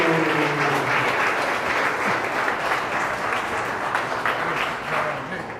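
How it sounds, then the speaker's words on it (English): A large crowd applauds a keynote speaker at a Miami conference, dense continuous clapping with a faint crowd murmur, loud and sustained, tapering slightly at the end. "So let's give a big round of applause for Tony Cho."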